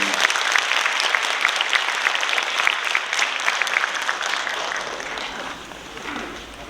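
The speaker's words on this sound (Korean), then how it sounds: "큰 감사의 박수를 보내주시기 바랍니다" Audience applause after a soprano and guitar performance at a lecture event, dense sustained clapping from a crowd that slowly thins and fades.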